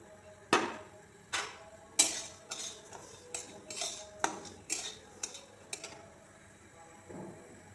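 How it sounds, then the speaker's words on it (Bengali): Quiet, irregular clinks and scrapes of a metal utensil against a dry pan as seeds are stirred while roasting. "এখন আমি তিলগুলোকে হালকা ভেজে নেব।"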